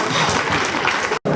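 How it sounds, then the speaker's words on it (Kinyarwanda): Audience at a school feast-day celebration applauds in a dense, loud burst of many hands, continuous and close, with a brief cut near the end. "Ndagira ngo mufashe tuboma amashyi."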